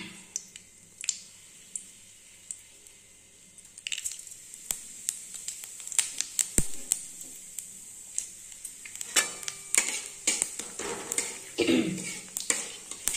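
A bay-leaf tempering fries in hot oil as it is stirred in a pan: quiet sparse pops at first, then busier crackling sizzle and spatula scrapes, close and fairly soft.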